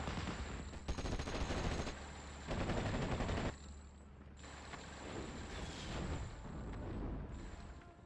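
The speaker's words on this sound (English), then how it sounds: "I do at this point force fire at the ground" Automatic gunfire in a WWII-style strategy video game, as units force-fire into the ground. Sustained, rattling bursts come in waves at a moderate distance, with mechanical clatter between them.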